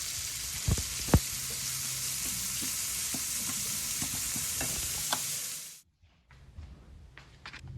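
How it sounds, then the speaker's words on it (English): Onion and ground beef cook together in a pan with a close, continuous sizzle and occasional utensil clicks, then the hiss cuts off abruptly near six seconds, leaving quiet handling sounds. "I have 1 onion and ground beef. I'm gonna cook them together"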